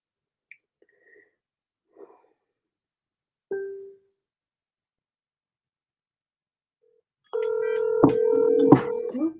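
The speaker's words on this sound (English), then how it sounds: "Okay, I'm going to call Maggie again" A telephone dials out for a call: a few sparse short tones and beeps, then a loud, sustained ringing tone near the end, with no voices.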